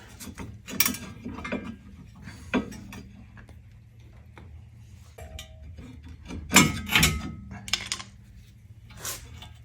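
Metallic clicks, clunks and scrapes come from fitting a rebuilt front brake caliper onto the disc of a 1979 Fiat X19 Series 1.5, irregular and close, with quieter handling noise between the louder knocks.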